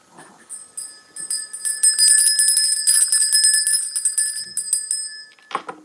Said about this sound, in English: And let me grab my bell.